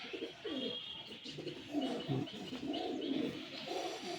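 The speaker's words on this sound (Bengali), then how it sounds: "বন্ধুরা এই আরেক জোড়া 8-7 পায়রা আছে" Pigeons of Pakistani, Madrasi and Giribaz breeds coo steadily and close by, soft throaty rolling calls with a few faint chirps mixed in, and no voices.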